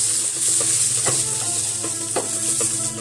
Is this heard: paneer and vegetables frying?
yes